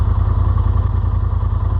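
A Polaris RZR Pro XP side-by-side sits at a steady idle around 1250 RPM, its engine a close, continuous low rumble with a faint mechanical clatter, no voices.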